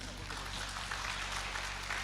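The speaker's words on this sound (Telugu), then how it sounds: "చప్పట్లు కట్టు" Congregation at a Telugu worship service clapping their hands together, a dense, steady wash of applause lasting about two seconds with no voices over it.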